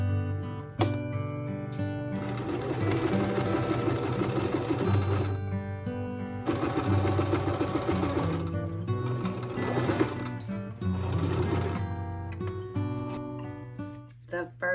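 Sewing machine running a wide stitch with green thread, loud rapid mechanical whirring in several sustained bursts separated by short pauses, with light talk in the background.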